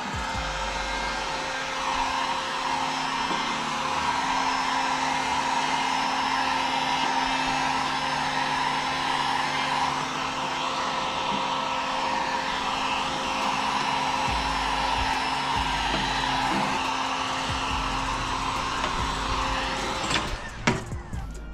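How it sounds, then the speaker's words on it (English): A cheap Harbor Freight heat gun on its low setting blows a steady, loud whooshing hum while warming freshly sprayed wrinkle red paint to speed drying. The sound holds unbroken for about twenty seconds and ends with a few clunks. "using this cheap Harbor Freight heat gun on the low setting, I'm just gonna kind of warm it up"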